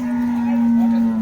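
A Holstein Friesian cow at a cattle market gives a single steady, close moo lasting about a second.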